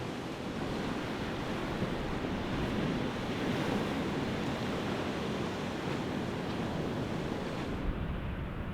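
Steady roar of ocean surf at God's Thumb on the Oregon coast, continuous and broadband, with wind buffeting the microphone throughout and no voices.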